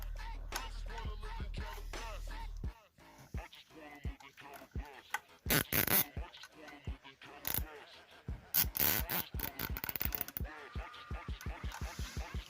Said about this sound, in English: I'm gonna grab a zip tie quickly, secure that on